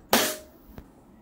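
A WE Glock 19 Gen5 airsoft pistol fires a single sharp, close crack, followed by a fainter click a moment later.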